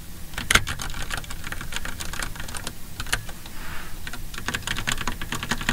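Rapid computer keyboard typing, picked up by a microphone resting on the keyboard, runs as dense irregular clicks and clacks throughout, close and crisp with occasional louder keystrokes.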